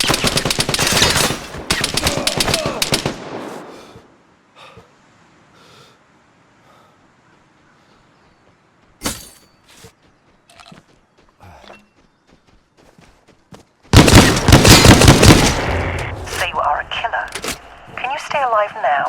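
A Saiga 12K shotgun fires in the video game Vigor in two loud, rapid bursts of repeated blasts, one at the start and one near the end, with a quiet stretch of faint footsteps and a lone shot between.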